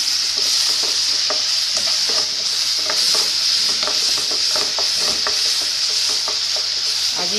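Chopped stalks fry with salt in a pan, giving a steady bright sizzle with regular scraping and clinking strokes of a spoon stirring, close and continuous with no talking.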